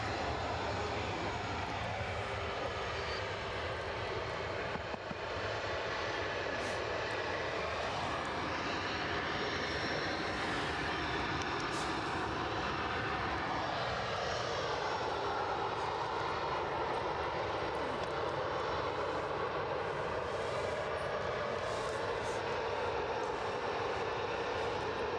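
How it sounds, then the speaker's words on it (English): A British Airways Airbus A320 jet heading out for takeoff at Edinburgh Airport, its engines producing a loud, steady broadband roar that fills the whole stretch, with a whining tone that slowly shifts in pitch and no voices over it. "British Airways just managing to get out with their A320."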